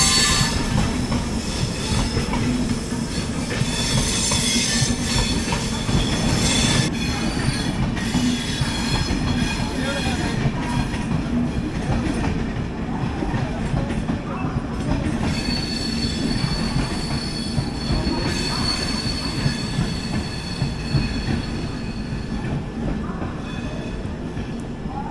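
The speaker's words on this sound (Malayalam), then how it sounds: "ബൃന്ദാവൻ എക്സ്പ്രസ് അങ്ങനെ കയറി വന്നു." Brindavan Express passenger train pulling into Katpadi station, a steady loud rumble of rolling coaches with squealing wheels and faint clickety-clack running throughout, no talk.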